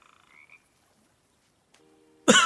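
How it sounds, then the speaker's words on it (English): A frog gives a sudden loud croak near the end of a scene from The Book of Boba Fett, after faint chirps and a brief low tone in a mostly quiet background. "Oh, that's a lot of frogs."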